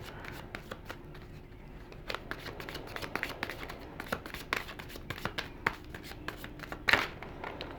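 Tarot de la Noe tarot cards being shuffled by hand, a steady run of close, crisp riffling flicks and soft slaps with a sharper snap near the end, alone without talk.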